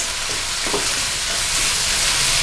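Onions being stirred in a hot frying pan for a beef chili dish, a steady broadband sizzle with a few soft scraping strokes, close and continuous with no talking.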